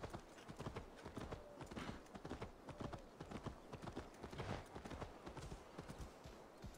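Rapid, steady clip-clop of horse hooves galloping on hard ground in the video game Assassin's Creed Valhalla, loud and continuous throughout.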